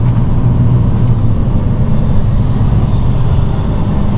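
Truck driving along a road, a continuous, fairly loud low engine drone and tire rumble from inside the cab with no voices.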